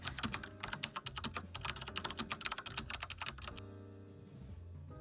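Rapid clattering keystrokes on a computer keyboard tap away in quick uneven bursts for a few seconds, then stop, leaving a faint background hum.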